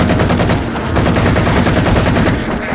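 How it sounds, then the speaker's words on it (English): Assault rifle fire in the video game Halo 4, a loud, close, continuous rapid burst of automatic shots in steady rhythm lasting the whole stretch, with no talking. "Nope, screw that. Assault rifle."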